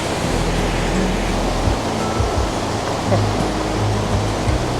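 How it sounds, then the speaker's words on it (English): Loud, steady roar of a large waterfall in Norway filling the whole clip, a dense rushing wash of water with a faint voice underneath. "Massive waterfall."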